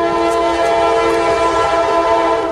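A loud, steady train horn blares continuously over the rumble of a passing CSX freight train in Cary, close by and sustained throughout.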